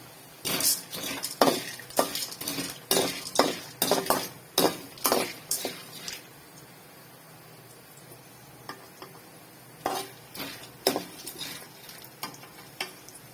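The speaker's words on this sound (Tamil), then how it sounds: "வேர்க்கடலை கொஞ்சம் நல்லா வறுப்பட்டுடுச்சு இப்போ பொட்டுக்கடலை சேர்த்துக்கலாம்" Roasted peanuts and roasted gram stirred in a pan for a spicy puffed-rice snack, a run of crisp rattling scrapes and clinks of the spoon against metal, close and busy at first, then sparser strokes after a pause.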